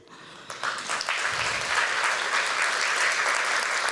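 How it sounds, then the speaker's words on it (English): A theater audience bursts into applause for the organizations behind a production, dense steady clapping that swells after half a second and holds loud to the end. "give them a round of applause for making today's production happen"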